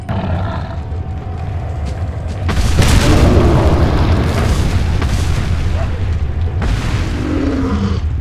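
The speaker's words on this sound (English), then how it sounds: "Let's use a hand grenade instead." A hand grenade detonates in the Resident Evil 4 video game, with a loud, deep boom and a roaring rumble that lingers for several seconds over a steady game background.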